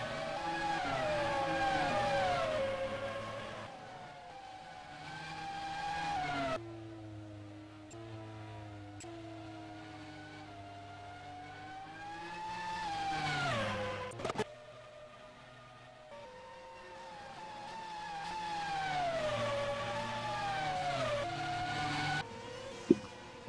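Racing cars in a British GP racing video game, engines whining and rising and falling in pitch as they pass, with a long steady drone and occasional gear shifts, fairly faint.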